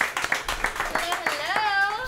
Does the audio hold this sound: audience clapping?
yes